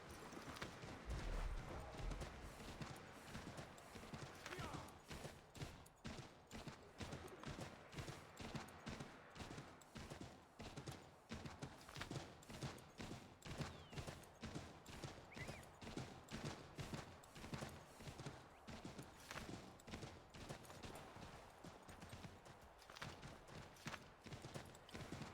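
Rapid, steady galloping hoofbeats of a horse in Assassin's Creed 3, a dense drumming rhythm running loud and continuous throughout with game ambience and occasional sharp cracks beneath.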